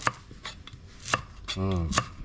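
A knife chops sharply on a cutting board, cutting galangal, a few separate crisp strikes at an uneven pace, with a brief voice in between.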